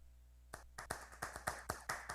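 Virtual applause at a metaverse event: about eight crisp, evenly spaced claps ring out one after another at a steady rhythm, fairly quiet and with no voices over them.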